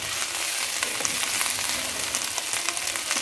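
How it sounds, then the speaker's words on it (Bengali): Rice frying and sizzling steadily in a pan, a dense continuous crackle with occasional stirring scrapes, close and moderately loud with no talk. "চালটা দিয়ে আমি একটু ভালো করে ভেজে নেব।"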